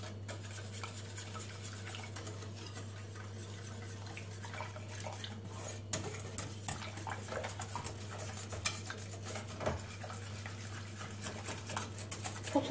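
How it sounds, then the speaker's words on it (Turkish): A spoon stirs a pudding mixture in a pot for a fake tiramisu, giving faint, steady scraping and rubbing with a few light clinks against the pot, close by, over a constant low hum and with no talking. "Şimdi bunları güzelce karıştırıp"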